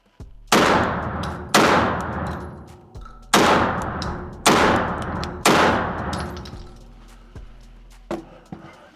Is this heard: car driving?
no